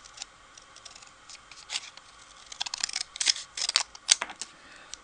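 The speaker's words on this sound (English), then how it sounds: "I'm just going to cut it out with scissors" Scissors snipping through paper cardstock for a handmade Father's Day card, a run of crisp, close cuts that speed up into rapid clustered snips toward the end, with no talking.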